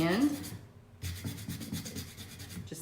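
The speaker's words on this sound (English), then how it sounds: "So I'm just going to kind of turn my handle here while I sand" Hand sanding of a painted wooden rolling pin as the handle is turned, a close raspy rubbing in repeated strokes after a brief voice at the start.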